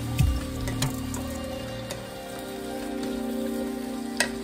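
Shrimp sizzling in a hot frying pan with mushrooms, a steady crackling hiss with a few sharp clinks from the pan and utensil near the start and end.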